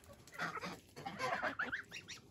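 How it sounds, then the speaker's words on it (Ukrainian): Domestic geese honking in a backyard, several loud overlapping nasal honks in quick uneven bursts close by, no talk. "І гуси це все хорошо з'їдають."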